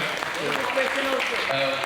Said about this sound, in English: Big round of applause for Sue over here.